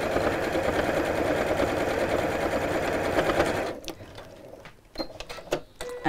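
Sewing machine stitching down the edge of fabric within the seam allowance, a steady close mechanical whir running for several seconds before stopping, followed by a few faint clicks and handling noises.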